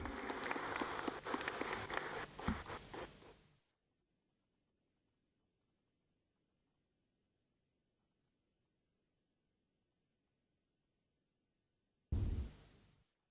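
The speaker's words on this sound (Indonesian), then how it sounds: "Mari kita berikan tepuk tangan yang meriah." Applause from an audience at a stock exchange listing ceremony for new companies, a dense burst of clapping for several seconds that stops abruptly, followed by near silence before another short loud burst at the end.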